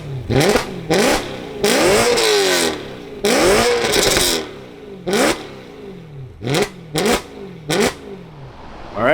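A BMW E92 engine is revved repeatedly in short bursts, several long pulls and then quick blips, each rising and falling sharply, loud and close with no talking.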